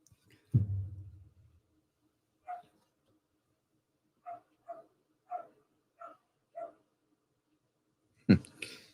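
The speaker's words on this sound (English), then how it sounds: "I can hear my puppy barking." A puppy barks in the distance, a scattered series of short, faint yips spaced a second or so apart in an otherwise quiet room, with a couple of louder nearby thumps at the start and end.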